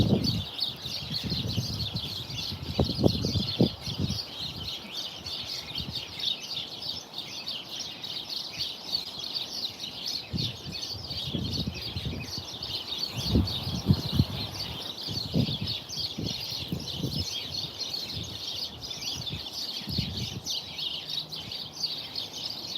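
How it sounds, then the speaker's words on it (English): Many birds chirp and call outdoors in a steady, dense chorus, some agitated, with lower bursts and rustling scattered throughout. "You hear all my birds? All my birds are complaining because those big birds, they're trying to eat them."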